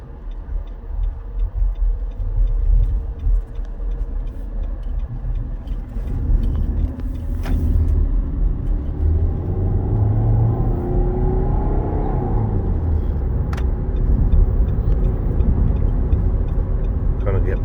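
A 2017 Nissan Rogue SV cruising on the road, with steady low engine and tire rumble throughout, growing slightly fuller in the second half as it picks up speed, with light ticks and faint voices in the background.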